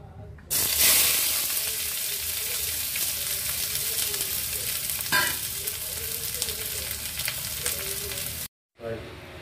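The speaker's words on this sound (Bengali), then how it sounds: "এরপর আমি পেঁয়াজ কুচিগুলো একটু ফ্রাই করে নেব" Chopped onions frying in a pan, with a steady close sizzle and hiss that starts suddenly and runs on with light stirring scrapes, then cuts off briefly near the end before resuming.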